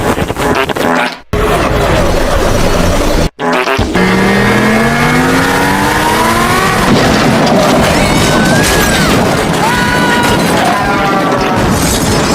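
Race cars scream through a race video being played back, loud engine whines rising and falling in pitch as cars pass, with brief dropouts near the start and busy crowd-and-track noise throughout.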